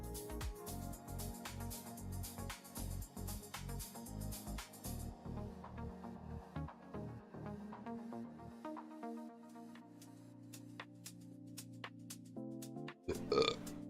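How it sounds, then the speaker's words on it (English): A long, loud, gurgling burp rumbles right into a close microphone, broken into rapid pulses and tailing off into quieter drawn-out eructation, alone without speech. "I didn't mean to burp at the mic."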